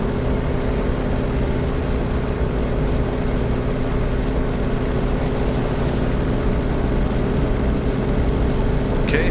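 A loud, steady propeller-aircraft engine roars at takeoff power, a constant droning rumble with strong low harmonics and no break, in a flight-simulation game with a bomb-laden plane on the runway.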